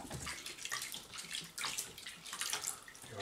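Running water rinses a ferret at bath time, a close, steady splashing flow with a trickling, bubbling texture and no voices.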